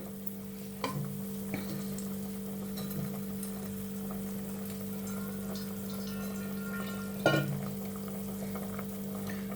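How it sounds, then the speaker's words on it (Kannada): Water bubbling in a cooker pot for avarekalu pulao, a low steady simmering hiss with a constant hum, a few soft clinks near the start and a louder knock later. "ಕುದೀತಾ ಇದೆ ನೋಡಿ ನೀರು"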